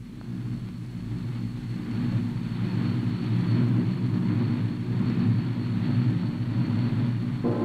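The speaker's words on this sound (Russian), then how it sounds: "Самолеты в заданном районе." Soviet military airplanes from 1974 fly overhead in a steady, loud engine roar that swells slightly and holds, a broad continuous drone with no voices.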